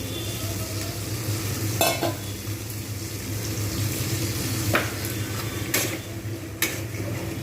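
Roasted ground coriander, cumin, nutmeg and mace stir-fried in a pan for a patal paneer dish, a continuous low sizzle under regular spatula scrapes and a few sharp clinks against the pan, with no speech.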